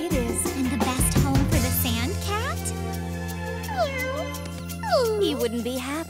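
A cartoon sand cat meows in a voiced, drawn-out call that slides up and down in pitch several times, close and clear, over a continuous music or ambience bed.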